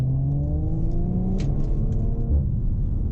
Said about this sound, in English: I put the car into dynamic mode. That will shift down gears.